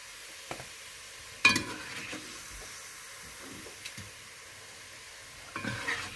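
Meat sizzles and hisses as it fries in a pot for kazan kebab, with a few sharp scrapes and clatters of a utensil stirring it now and then.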